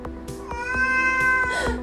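A cat lets out one long, drawn-out meow, clear and close, with faint tapping sounds in the background.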